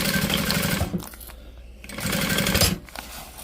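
A sewing machine runs in two short bursts separated by a brief pause while back stitching fabric with a quarter-inch seam, close and moderately loud.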